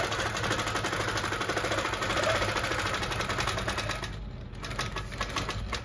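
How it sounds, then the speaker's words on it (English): A Baby Lock Regalia long-arm quilting machine stitching in an embroidery and quilting room, a steady fast mechanical whir with a rapid repetitive needle chatter, running continuously with a brief dip near the end. "this is the Baby Lock Regalia long-armed quilting machine"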